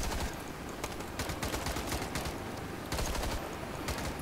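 Rapid gunfire in The End: Contagion, a zombie shooter game, crackling in dense overlapping bursts throughout with brief lulls, loud and continuous with no talk over it.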